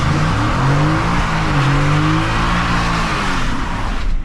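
Ford F150 XLT pickup with a 10-speed automatic, in sport mode with traction control off, accelerating hard; a loud continuous engine roar with rising and shifting pitch fills the whole clip, with a tire-squeal edge.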